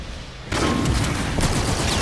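A light machine gun fires in a shooter video game, starting after a short quiet moment with a loud, continuous stream of rapid shots that lasts to the end.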